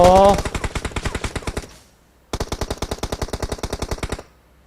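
Rapid bursts of automatic gunfire in PUBG Mobile, two long volleys separated by a brief pause, loud and close, with a short voice at the start.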